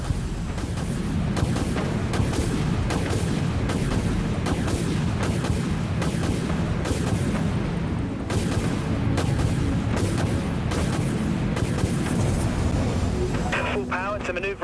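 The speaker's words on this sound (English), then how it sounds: "Missiles have firing solution, Captain. Launching missiles." Missiles launch in the Dreadnought space combat video game as a run of rapid booming bursts over a dense, continuous roar. A voice speaks throughout.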